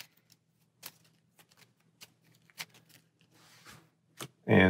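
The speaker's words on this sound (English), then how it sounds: "Our boss deck is empty, so we will shuffle." Cards from the Mutants card game are shuffled during solo play: a soft run of scattered riffling and flicking sounds, close and quiet, with a louder rustle at the end and no talk.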